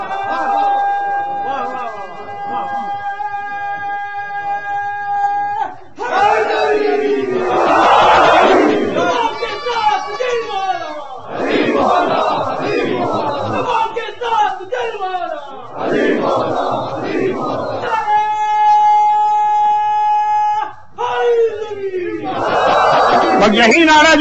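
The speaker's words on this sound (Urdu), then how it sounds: "یہی نعرہ جو آپ نے سنا" A large congregation at a Shia majlis chants a religious slogan in loud unison, several repeated bursts of massed voices alternating with a sustained sung or recited voice between them.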